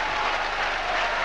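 A darts crowd at the 2000 World Matchplay claps in steady, dense applause, loud and filling the whole moment without any voices.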